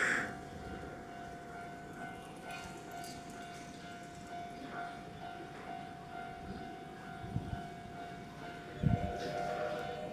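A local stopping train pulls in at platform 4 of a station, a steady low rumble with a sustained tonal whine and a few clanks and thuds as it slows, moderately near, with no one talking.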